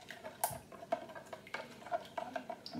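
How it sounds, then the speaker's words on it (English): Salt and pepper seasoning whisked in a bowl, quick light clinks and taps of a utensil against the sides in an uneven rhythm, close and fairly quiet. "Now I'm going to give this a whisk."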